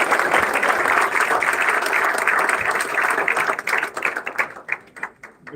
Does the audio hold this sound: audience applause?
yes